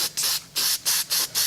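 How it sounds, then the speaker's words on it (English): Adhesive spray hisses in short bursts from an aerosol can onto the oil pump O-rings of an F22B2 Honda Accord engine: five or six quick, close sprays separated by brief pauses. "I'm going to go ahead and spray a little bit of adhesive spray on these O-rings right here"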